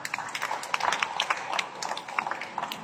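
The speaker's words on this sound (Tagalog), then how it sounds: "Pag hindi kayo pumalakpak, ako papalakpak." Applause during a Filipino church sermon: scattered hand claps, faint and somewhat distant, sounding in an irregular patter.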